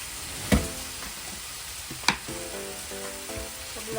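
Sautéed bitter gourd (ampalaya) is stirred in a hot pan, with a steady oil sizzle broken by two sharp utensil knocks against the pan and softer scraping strokes.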